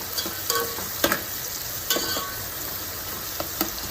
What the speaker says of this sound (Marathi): कांदा घेतलेला होता बारीक चिरलेला तो यामध्ये टाकून चांगला परतून घ्यायचा आहे